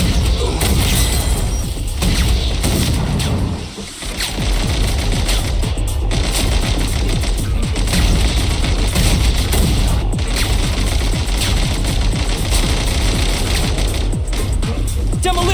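Rapid, dense gunfire and blasts from a grenade launcher in Genshin Impact, a loud, unbroken barrage that runs almost the entire time with only a brief dip near the start.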